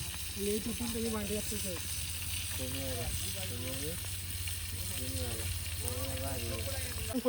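Chicken pieces fry in a pan with a steady, continuous sizzle, while voices talk intermittently over the cooking.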